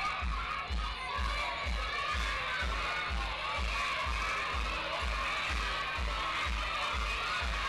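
Young children in a puppet theatre audience shout and cheer together as a lively crowd, with music carrying a steady low thumping beat underneath throughout.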